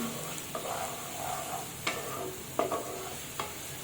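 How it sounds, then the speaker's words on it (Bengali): A spoon stirs ginger-garlic paste into frying potatoes in a pan, making a soft continuous sizzle broken by a few sharp scraping clicks of the utensil against the pan. "এখন একটু ভালোভাবে আলুর সাথে নাড়িয়ে নিচ্ছি"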